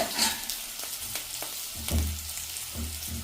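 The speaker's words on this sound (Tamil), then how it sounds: "பப்பாக்காய் இப்படி போட்டு வதக்குவோம்" Grated raw papaya sautéing in a pan makes a close, continuous sizzle broken by repeated spatula stirs and scrapes at an uneven rhythm.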